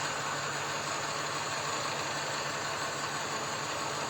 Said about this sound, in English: We've got an engine running video.